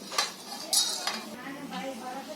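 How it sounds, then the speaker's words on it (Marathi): Whole spices roast on a tawa as a metal utensil scrapes and clinks against the pan in a few sharp strokes, with faint stirring and light sizzling between. "आधी पहिला आहे ना खडा मसाला भाजते."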